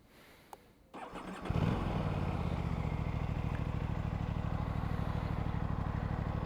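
An Aprilia RS 457 motorcycle engine starts with a brief crank and catches into a steady, loud, close idle that rumbles on evenly, with light clatter and no talk over it.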